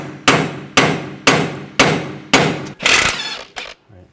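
Hammer blows tapping out an outer tie rod on a 2004-2009 Audi A4 Quattro with a punch: five evenly spaced sharp metallic strikes about half a second apart, then a brief louder scrape and a final tap, close up.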